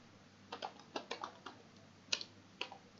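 Computer keyboard keys are tapped in a short irregular run while C++ code is typed, about a dozen quiet close clicks with small gaps and no talking.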